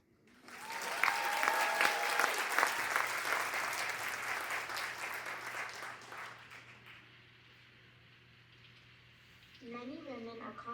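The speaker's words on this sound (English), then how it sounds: "please give a huge round of applause for the first act." A dance recital audience breaks into loud, sustained applause and some cheering that rolls on for several seconds before tapering off, after which a voice begins speaking.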